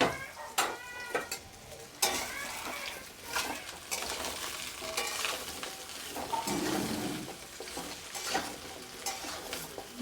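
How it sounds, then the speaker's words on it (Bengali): Ridge gourd and potato pieces fry together in a pan, crackling steadily while a utensil scrapes and stirs them in repeated strokes, close and clear without talk. "দিয়ে এটাকে এবার একটু ভেজে নিচ্ছি"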